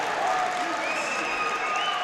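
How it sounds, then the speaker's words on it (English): Hometown crowd cheers and applauds at a college wrestling dual meet in Greeley, a dense, steady roar of clapping and shouting filling the arena, with a voice speaking over it. "Hometown crowd goes nuts."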